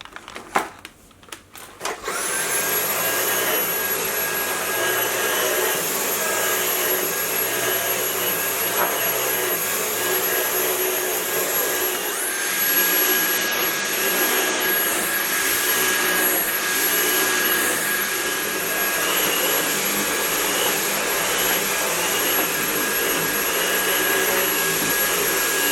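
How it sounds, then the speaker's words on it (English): A Dyson V8 Animal cordless vacuum cleaner runs in a garage while cleaning car floor mats, starting after a few clicks into a steady high-pitched whine that holds loud and constant for over twenty seconds. "The garage vacuum of choice is this is the Dyson, the V8 Animal."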